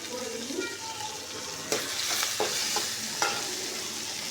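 Tomato tossed into onion and capsicum in a hot pan for soybean veg biryani, a continuous sizzle broken by a few sharp spatula scrapes and knocks.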